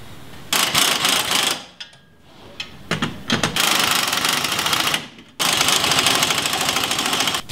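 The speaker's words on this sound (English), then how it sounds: "Alright, the spring's compressing pretty good" A coil spring compressor is tightened on a vehicle axle while fitting a coil spacer, producing loud, rapid mechanical rattling bursts. The bursts come in close, separated runs with short pauses and lighter clicks between them.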